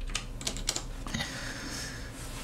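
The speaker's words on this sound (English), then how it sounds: "A great mechanical keyboard with the brown switches in it. So it's quieter than most, but still loud." Typing on a mechanical keyboard fitted with brown switches and a metal plate: a quick run of sharp clacking keystrokes in uneven bursts, close and fairly loud, followed by a short lull of quieter clicks, with no talking.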